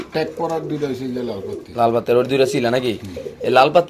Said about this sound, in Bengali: এখানে আছে দুই জোড়া কবুতর